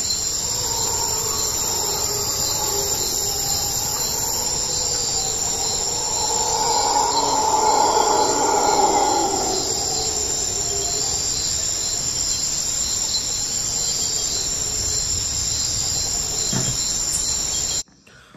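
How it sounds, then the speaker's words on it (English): Crickets chirp in the woods at night as a loud, unbroken high trilling drone, with a faint low rumble swelling in the background midway, before cutting off abruptly at the end. "the audio is obviously heightened so that you can only hear the crickets and stuff"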